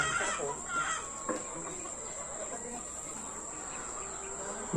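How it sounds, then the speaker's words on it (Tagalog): Native chickens and ducks kept in a backyard, with clucking and a rooster-like call rising over steady insect and cricket buzz, the birds sounding moderately close. "Mga alaga ko pong pato, tsaka mga native na manok."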